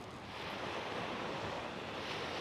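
Sea waves wash steadily onto Đồi Dương beach in Phan Thiết, Vietnam, a continuous broad surf roar mixed with wind buffeting the microphone, with no voices.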